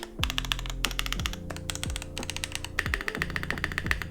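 A $169 budget mechanical keyboard in a two-piece case is typed on at a brisk, uneven pace, giving close, crisp clacks with some deeper thocks from the modifier keys and no talking.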